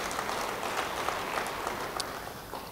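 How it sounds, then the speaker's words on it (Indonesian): Applause from a church congregation during an Indonesian-language sermon, a steady, moderately loud wash of clapping from many hands that holds evenly throughout. "Beri tepuk tangan bagi Dia."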